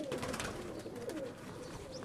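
Domestic pigeons in a fancier's loft, cooing softly and repeatedly in low rolling calls close by, with no voices and a faint background hum throughout.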